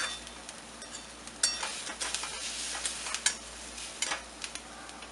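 Carrots, beans, onion and capsicum sauté in a pan with a soft steady sizzle, broken by sharp scrapes and clinks of a spatula stirring at irregular intervals, close and fairly quiet.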